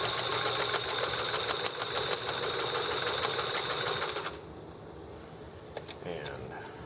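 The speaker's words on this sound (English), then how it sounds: "freehand stitching the first side around like this" A sewing machine runs steadily while freehand stitching a fabric bag, a dense mechanical whir with fast ticking, then it stops and only faint handling noise remains.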